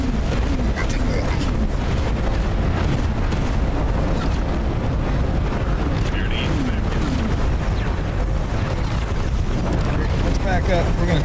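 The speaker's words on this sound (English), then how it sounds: "We're gonna take some explosion damage here." Explosions batter a ship in the space game X4 Foundations, a dense, continuous barrage of booms and crackling blasts over deep rumbling, loud and unbroken throughout.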